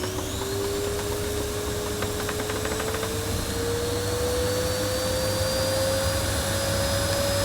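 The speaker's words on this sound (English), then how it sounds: "So I'm going to use the machine on full power for this extreme demonstration." A budget Goblin bagged vacuum cleaner spins up toward full power, a loud steady whooshing roar with a motor whine that climbs slowly in pitch throughout.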